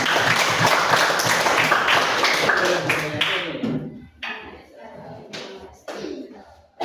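Students in a classroom clap their hands together in a burst of brisk clapping that breaks into scattered claps and then stops, with voices in the room.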